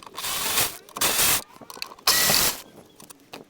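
A car jack pumped under a suspension arm during suspension and brake work on a Toyota Celica: three loud, close ratcheting bursts, each lasting about half a second, separated by short pauses, with no talk.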